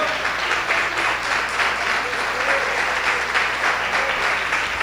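A church congregation applauds in praise during an evangelical service, steady dense clapping filling the room throughout, with faint voices mixed underneath.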